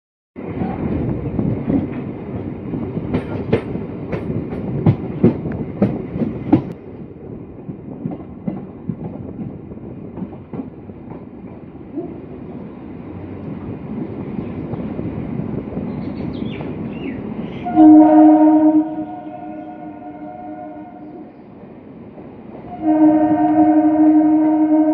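A passenger train runs from Kasimbazar toward Murshidabad with a loud, continuous rumble and rattling clatter, then its horn sounds in two long, sustained blasts near the end.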